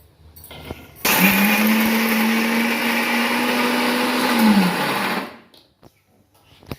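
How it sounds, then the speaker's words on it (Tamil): A kitchen mixer grinder (mixie) whirs loudly for about four seconds while grinding chutney ingredients, starting abruptly with a steady high whine that winds down as it switches off, with quiet handling sounds around it. "இந்த மிக்ஸி கப்பில் அரைச்சி வச்சுக்கிட்டேங்க"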